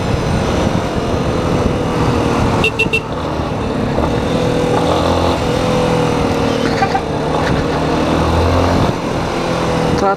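A small tractor engine passing on a busy road at night, its rough motor drone steady and close beneath general traffic noise for the whole stretch, with a few brief higher clicks and rattles.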